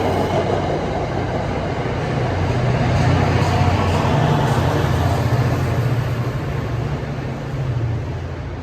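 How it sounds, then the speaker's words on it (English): A train passing nearby, a loud, steady low roar and rumble of rail cars that swells in the middle and eases slightly toward the end, with no talk over it. "here comes the train."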